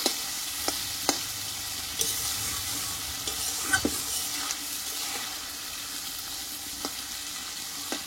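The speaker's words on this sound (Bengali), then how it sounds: "আমি এবার একটু খুন্তি দিয়ে একটু নাড়াচাড়া করে দেবো" A spatula stirs fish oil curry in a pan, producing a soft continuous sizzle broken by occasional scraping knocks and clinks against the metal at an unhurried pace.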